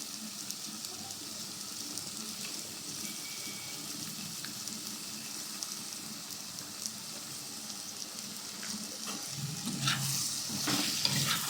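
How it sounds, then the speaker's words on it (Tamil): Yogurt goes into a pan of chicken curry, and a steady, fairly faint sizzle and bubble continues throughout with soft stirring scrapes, growing a little louder near the end. No voices. "அடுத்து தயிர் கொஞ்சம் சேர்த்துக்கலாம்."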